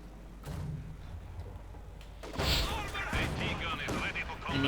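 Tank cannons firing in the World War II strategy game Company of Heroes 2, a few heavy booming shots and crashes after a quieter opening, over continuous battle noise.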